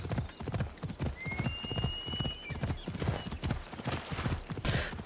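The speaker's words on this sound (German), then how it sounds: "Reiten wir am Strand entlang." Horse hooves clip-clop in a steady galloping rhythm as a rider travels along a beach in Assassin's Creed Odyssey, loud and close throughout, with a faint whinny and light game ambience behind.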